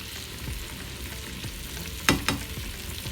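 Catfish pieces fry in olive oil in a pan, giving a soft, steady sizzle close by, broken by two sharp bursts of spattering near the end.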